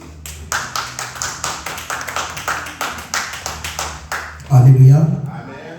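A church congregation claps in a steady, even rhythm for about four seconds in acclaim of the word of God, ending with a louder burst of voice and sound.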